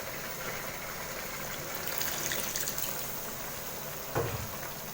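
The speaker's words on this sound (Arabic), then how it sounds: "المهم تنزلي على اللحمه ميه سخنه وهسيبها كده شويه." Hot water from a kettle is poured onto meat in a pot for a braised meat and onion dish, giving a faint, steady trickling splash that rises slightly midway, with a small knock near the end.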